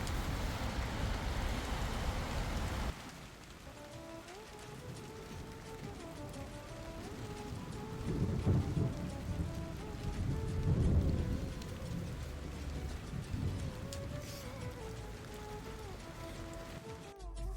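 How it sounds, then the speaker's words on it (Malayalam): Rain falls steadily outdoors on a cold day, a soft continuous patter with a louder burst at the start, while quiet tonal music plays faintly underneath. "മഴയൊക്കെ കണ്ട് ഇങ്ങനെ നിൽക്കുമ്പോൾ"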